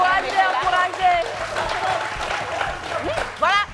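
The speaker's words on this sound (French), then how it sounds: "On applaudit." A studio audience applauds on the set of a French-language TV show, with sustained clapping under a host's loud, excited talk.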